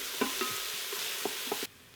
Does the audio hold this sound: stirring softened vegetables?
yes